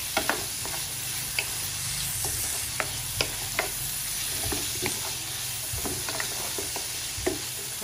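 Ripe bitter gourd (ampalaya) sautés in a hot pan, a constant sizzle and hiss broken by frequent clicks of stirring, with no voices.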